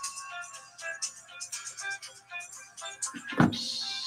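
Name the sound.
phone ringing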